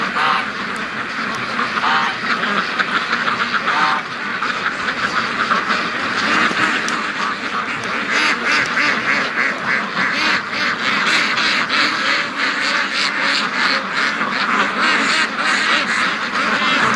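A flock of free-range farm ducks quacking frantically in a yard, a dense continuous chorus of loud overlapping quacks close by with no pauses.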